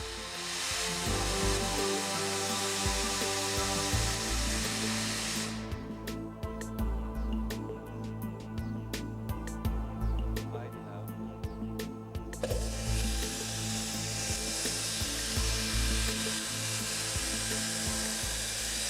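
A pneumatic grinder works the exhaust valve seat of a Sulzer RTA marine diesel engine at 1.2 bar air pressure. It makes a loud, continuous whirring and grinding that drops briefly in the middle, then resumes at full intensity with no talking.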